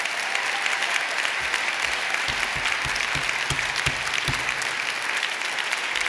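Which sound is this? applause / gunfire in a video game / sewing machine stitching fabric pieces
applause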